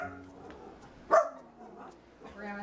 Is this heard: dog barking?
yes